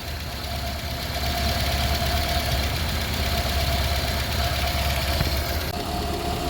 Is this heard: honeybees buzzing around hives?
no